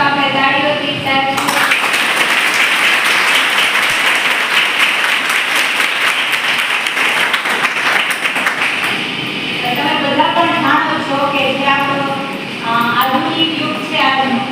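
Audience applause welcoming an official at a cyber crime awareness campaign event, dense sustained clapping that fades as a voice begins speaking over it near the end.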